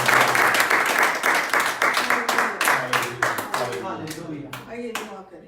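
A church prayer meeting congregation claps in welcome, a dense burst of hand claps that gradually thins into scattered, slower claps near the end, with faint voices underneath.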